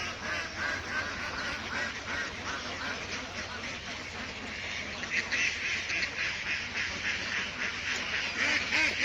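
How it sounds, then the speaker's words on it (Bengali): Khaki Campbell ducks at a farm pond keep up a busy, overlapping quacking chorus, near and fairly loud, growing slightly stronger toward the end. "খাঁটি ক্যাম্বেল জাতের হাঁস।"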